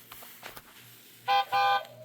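A voice imitates a little blue truck's friendly horn with two quick beeps near the end, read aloud from a children's book, coming after a quiet stretch with faint breathy sounds.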